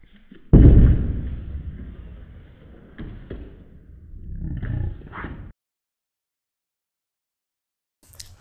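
A bowling ball thrown on a home release-training device lands with a heavy thud, then rolls with a fading rumble and a few clunks for several seconds before silence and a brief knock at the end.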